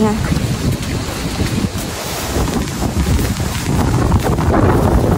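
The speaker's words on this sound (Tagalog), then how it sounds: "Lakas ng hangin." Strong, steady wind buffeting the microphone with a loud low roar throughout, gusting slightly, in cold drizzly rain, with no clear talk.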